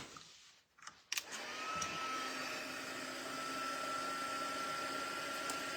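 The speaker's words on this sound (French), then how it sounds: "Alors, pistolet chauffant." A heat gun blasts hot air over embossing powder on a handmade 3D card, starting after a few brief clicks and handling noises, then holding as a steady, close, loud whooshing drone.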